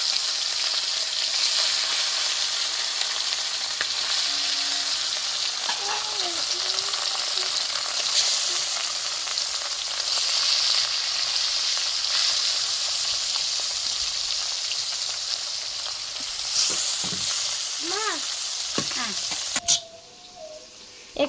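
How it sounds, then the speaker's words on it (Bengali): Rohu fish pieces frying in plenty of hot oil in a kadai, producing a loud continuous hissing sizzle throughout, with faint birdsong and brief distant sounds in the background. "কড়াইতে একটু পরিমাণে বেশি তেল দিয়ে দিয়েছি, তেলটা গরম হয়ে গেছে। এবার মাছগুলোকে আমি দিয়ে দেবো।"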